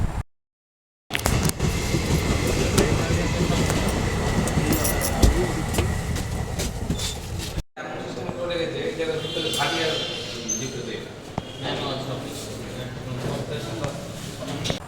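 A train passes a railway crossing while a vehicle waits at the gate, giving a loud, steady rumble and rail clatter close by for most of the span, with a brief break partway through and voices faintly mixed in.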